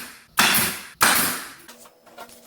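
A nail gun fires twice into clamped wood while building garage wall shelves, two sharp loud bangs about half a second apart, each with a short decaying ring, followed by faint handling noise.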